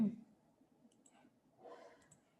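Mouse clicks while drawing in AutoCAD 2D, a few faint, sharp ticks spread across a quiet stretch with soft background noise.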